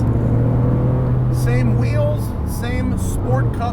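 Porsche 997 GT2 RS with variable geometry turbos, a steady low engine drone at cruising load, with brief whistling turbo and shift sweeps and a person talking over the sustained rumble.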